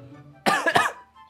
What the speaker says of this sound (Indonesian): Batuk aja ya, maaf bro